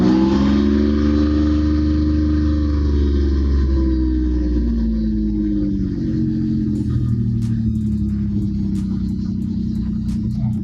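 A Mitsubishi Galant 7 engine, its tachometer faulty, cranks and catches, then settles into a loud, steady close-range idle rumble with a few faint ticks near the end.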